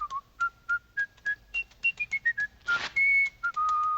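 A clear, tuneful whistled melody from a 1934 Looney Tunes cartoon, short separate notes rising and falling, with a couple of longer held notes near the end, close and solo.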